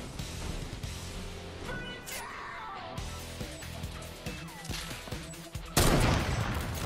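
Drum gun fire in a video game, with dense rapid shots running continuously under a busy mix of game sounds and a loud burst near the end.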